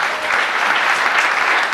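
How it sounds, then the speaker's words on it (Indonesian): A church congregation breaks into loud, dense applause, steady clapping from many hands throughout with no pause. "Tepuk tangan dong saudara."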